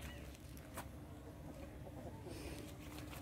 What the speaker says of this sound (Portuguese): Ali tem um galo. Tem dois galos.